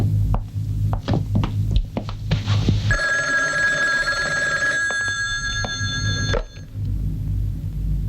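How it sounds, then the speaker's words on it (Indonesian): An office telephone in a 1980 Indonesian film rings with a bright electronic trill lasting a few seconds, heard over low room rumble and faint clatter, then stops abruptly. "Bu Evi, ada telepon untuk Ibu."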